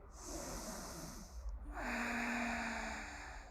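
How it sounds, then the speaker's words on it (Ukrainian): A person takes a slow, deep inhale through the nose during a gentle neck-relaxation exercise, heard close and quiet as a soft, airy rush of breath. "Вдих."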